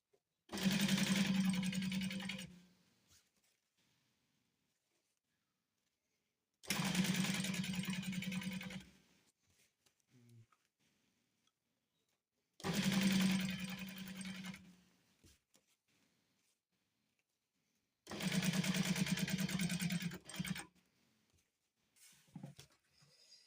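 A sewing machine stitches a seam on a cover for a frying pan made from a harrow disc, running in four separate bursts of steady, rapid whirring with quiet pauses between them.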